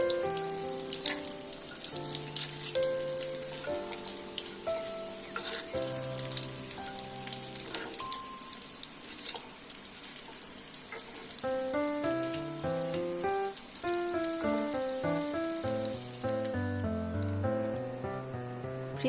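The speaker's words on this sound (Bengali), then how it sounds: "লোহার কড়াইতে এবার ভেজে নেব" Fish fingers sizzle steadily in oil in an iron wok over medium heat, a continuous crackling hiss running beneath louder melodic background music throughout.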